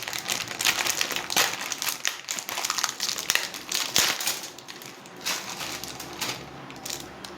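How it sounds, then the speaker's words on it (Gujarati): A block of dry Maggi instant noodles snapped and crushed by hand at close range, giving a quick run of crisp, crinkly cracks and crunches with no talking. "હવે મેગી તોડવી."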